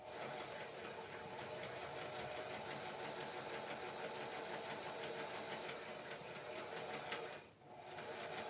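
A sewing machine stitching continuously at a steady fast rate during a live craft session, the rapid needle clatter running nearly unbroken before a brief pause near the end.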